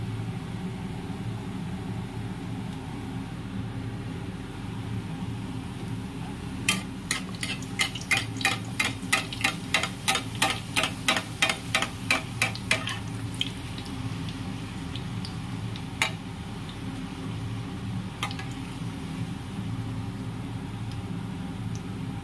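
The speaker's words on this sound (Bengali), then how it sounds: "এই যে লুচি ভাজা হচ্ছে" Luchi fry in hot oil in a home kitchen, a steady low sizzle with a rapid run of crisp ticking pops through the middle, then a few scattered pops.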